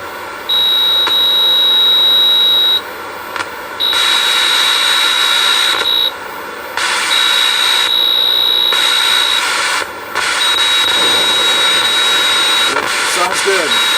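Rocket thrust from a 1972 Nutting & Associates Computer Space arcade game under repair, a loud steady roaring hiss with an electronic tone over it, cutting in and out in bursts of a few seconds.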